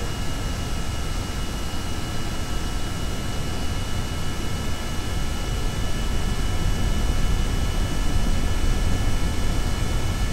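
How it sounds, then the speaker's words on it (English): A helicopter flies in the video game Kerbal Space Program, giving a loud, constant roaring whoosh of rotor and engine noise that holds steady for the whole stretch, with no voices. "This is a nice helicopter."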